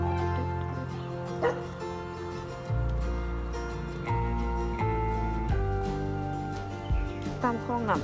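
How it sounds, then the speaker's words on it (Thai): A dog barks and yips over a steady musical background with other tonal sounds, the barks short and moderately loud. "หมาเห่า"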